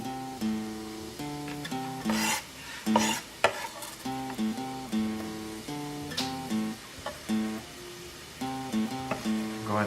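Chopped onions sizzle in about a tablespoon of olive oil while being stirred in a pan, a soft crackle with scraping bursts heard beneath prominent background music.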